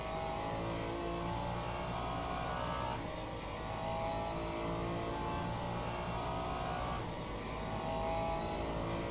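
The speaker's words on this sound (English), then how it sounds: "Porsche is coming up now." A Porsche GT3 race car engine in a racing game at Monza, a steady loud droning roar that swells gently as the car draws closer, with no voices over it.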